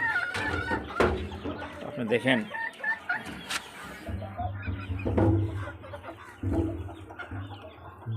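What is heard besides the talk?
native deshi hens clucking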